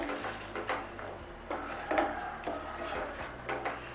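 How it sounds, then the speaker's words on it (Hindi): A spoon repeatedly scrapes and knocks against a pan as mango puree cooks over a gas flame, a steady, moderately close rhythm of soft strokes. "तो लगातार चलाते हुए मैंगो प्यूरी को मैं लगभग 5 से 7 मिनट पकाऊंगी।"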